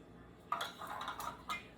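A high-sided 9x9 baking pan is handled on a kitchen counter, giving a few close, brief metallic clunks and scrapes with quiet pauses between them and a sharper knock at the end. No one talks.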